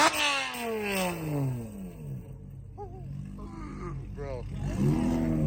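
Car engines revving loudly at a Memphis car meet featuring a Honda Civic Type R and a VW Golf GTI, rising and falling roars close by, with crowd chatter and shouting over the engine noise throughout.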